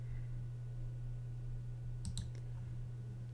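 A quick pair of computer mouse clicks followed by a fainter one, close and crisp over a steady low electrical hum.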